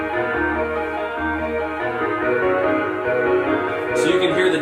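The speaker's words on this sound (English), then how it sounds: "I added something else from Firebird. It's another synthesizer called Red Planet" A Red Planet synthesizer, grungy and low-pass filtered, layered into a beat: a steady, warm, muffled pulsing groove played alone at moderate volume.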